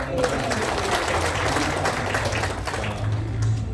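Applause from the congregation at a Christian revival service in Malang, a steady dense patter of many hands filling the hall, with voices mixed in throughout.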